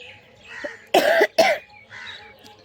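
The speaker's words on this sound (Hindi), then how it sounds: "खांसी बहुत ज़्यादा हो रहा है" Two harsh coughs in quick succession, close and loud, with quiet background and faint chirps before and after.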